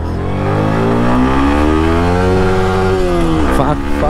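A Yamaha R15 V3 motorcycle, tested for top speed after its break-in period, accelerates hard through the gears: a loud, steadily rising engine note with one clear shift near the end, heard close up.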